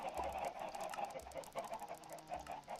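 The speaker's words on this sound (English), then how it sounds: "The chickens are too loud." Chickens clucking in the BlockHeads video game, a repeated soft pattern of clucks in a steady rhythm, fairly quiet and alone.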